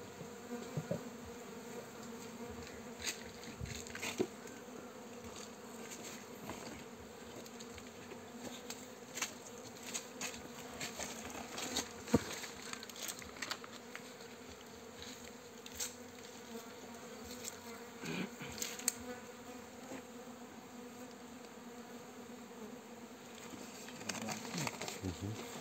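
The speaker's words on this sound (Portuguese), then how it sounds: "Tá vendo, gente, aqui, ó. Movimentação de abelha." Uruçu amarela stingless bees stir inside their hive box during a colony division, making a steady close buzzing hum laced with small pattering and scrabbling ticks that runs on without talk.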